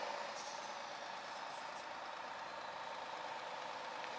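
A long-haul truck creeps slowly into a yard, its engine a steady, moderately distant drone with a continuous hiss, unchanging throughout and with no voices.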